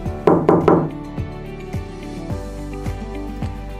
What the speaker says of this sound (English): Soon, there is a knock on my door.